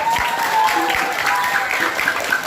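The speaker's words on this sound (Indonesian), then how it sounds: "Tepuk tangan dulu." Applause from the audience at an Indonesian talk show, a continuous crowd clapping with a faint tone running underneath and some murmur mixed in.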